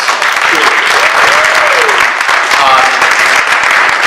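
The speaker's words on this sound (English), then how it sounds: "let's start it off right with a round of applause" A room full of people at the opening of a county welcome center breaks into a loud round of applause, dense clapping held steady, with a few voices and a whistle-like tone rising over it.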